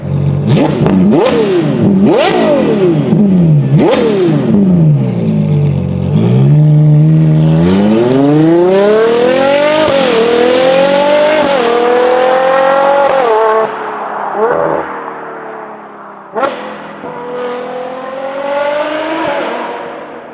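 A Novitec-tuned Ferrari Purosangue with its V12 and flap-activated race exhaust revs repeatedly, short sharp blips climbing and falling, then long screaming pulls to high revs before settling back to idle, loud and close.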